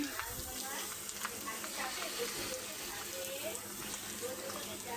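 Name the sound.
coconut being stir-fried in pan with bay leaf, cinnamon, cardamom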